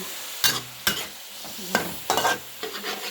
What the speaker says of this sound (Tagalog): Igisa natin ito guys. Lagyan natin siya ng paminta. At kunting asin.